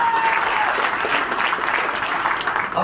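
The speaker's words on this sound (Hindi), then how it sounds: "ताली बजाओगे" An audience at an Aam Aadmi Party workers' meeting in Rewa breaks into loud, sustained applause, close and dense clapping that carries on steadily for the whole stretch with a brief tone near the start.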